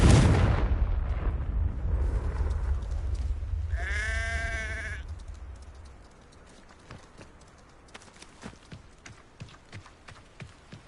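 A Confringo fire spell cast in the Hogwarts Legacy video game, heard as a loud burst and rumble that fades into a brief warbling magical tone, followed by quieter scattered clicks and taps.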